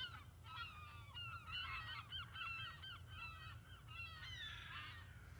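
Geese honking on a park beach, a steady chorus of overlapping calls that runs throughout over a low constant rumble, moderately near.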